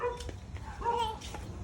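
A dog at a neighbour's house gives short yips and whimpers, fairly close and moderately loud, in a few quick bursts.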